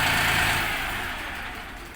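A Dongfeng mini tractor engine running steadily at a sales yard, a close, continuous mid-pitched drone that eases slightly in loudness, with no talking.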